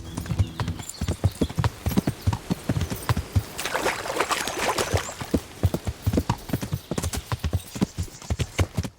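Horse hooves clip-clop steadily at a brisk riding pace in Kingdom Come: Deliverance, a close, rhythmic gait that carries on throughout with a faint noisy wash in the middle.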